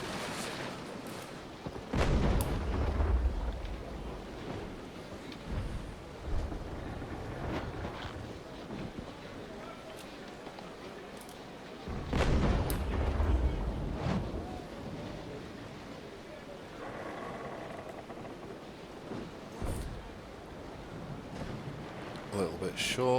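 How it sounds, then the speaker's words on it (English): Cannon broadsides boom from sailing warships in the naval game Naval Action, two heavy rumbling volleys roughly ten seconds apart with a long rolling tail, under wind noise and someone talking. "let's just fire a couple of broadsides now we've got our angles right"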